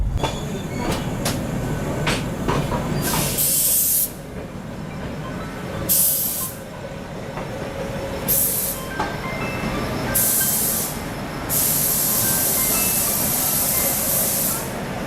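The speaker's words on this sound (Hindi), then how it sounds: "सामने लगी हुई है दक्षिण एक्सप्रेस, हैदराबाद से निज़ामुद्दीन जाने वाली।" Dakshin Express, an Indian train running from Hyderabad to Nizamuddin, stands at a station with a steady loud rumble, rail clatter and repeated sharp bursts of hissing air.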